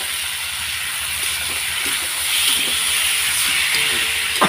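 Boiled mushrooms hit a hot pan in an Indonesian stir-fry, giving a steady, loud hiss and sizzle that holds throughout with faint crackles.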